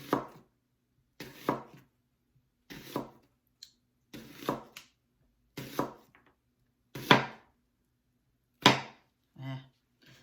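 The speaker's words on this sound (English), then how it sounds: "Okay, I'll finish the slicing and come back." A knife slices onions thinly on a cutting board, making about eight crisp, separate chops with short pauses between them, close and clear against a quiet room.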